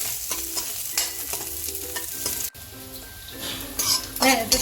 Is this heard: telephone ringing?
no